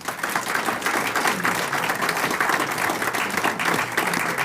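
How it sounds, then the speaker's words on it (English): Guests at an amateur astronomy society's annual dinner meeting give sustained, dense applause. Many hands clap steadily at an even, fairly loud level through the whole stretch, with no talk over it. "so a round of applause for them too."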